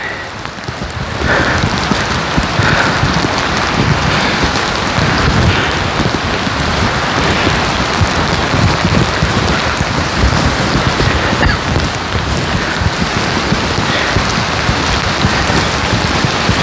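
Heavy rain pours down in the mountains, a dense, loud and steady hiss of drops striking surfaces that holds unbroken throughout, with no voices over it.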